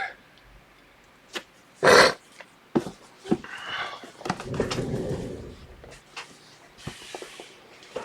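A dog growls and gives a few short barks and grunts close by, with one loud burst near the start and rustling and movement around it.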